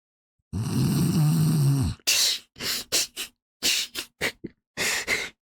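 A voice imitates snoring with one long, drawn-out nasal rasp, then a string of shorter snorts and breathy huffs in an uneven rhythm, close and alone.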